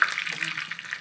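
Curry leaves hit hot tempering oil for a GSB-style dal, giving a brief, loud, crackling sizzle up close with no voices.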